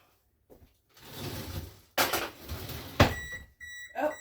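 An oven timer signals that baking is done with a few short, clear tonal beeps after kitchen clatter, ringing out fairly close in a home kitchen during pumpkin muffin baking.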